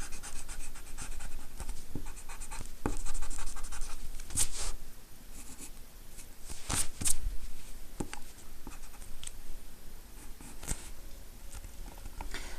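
Pencil lines being erased from drawing paper, a steady soft scratchy rubbing with brief louder scrapes, close and alone.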